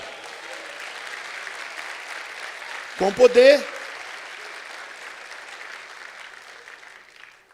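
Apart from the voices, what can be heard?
congregation applause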